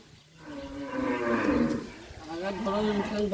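A Pakistani Pakhra cow at a livestock market lowers a long, rough moo that swells and fades, then a second harmonic-rich call follows, close and loud with no talk over it.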